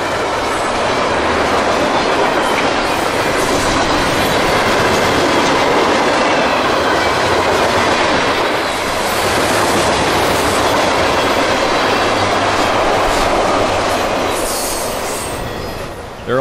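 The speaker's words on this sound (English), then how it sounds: "M453 has become about the most dependable daylight train on the Florida S-Line these days" Freight train with auto racks and mixed freight cars rolling past on the Florida S-Line, a loud continuous rush of wheels with clickety-clack and some squealing, heard close from beside the track.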